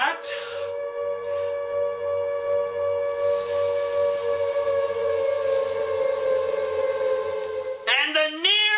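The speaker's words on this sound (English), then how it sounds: "And the near-constant sirens!" A civil defense siren wails with a steady, loud sustained tone that holds for several seconds before bending and dropping near the end.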